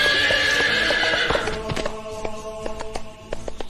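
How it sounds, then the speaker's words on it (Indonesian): A wild, untamed horse neighs loudly in a long shrill whinny, followed by scattered hoof clip-clops and taps as it fades. "Kemudian nampak Suraj disuruh Vishal menjinakkan kuda yang masih liar."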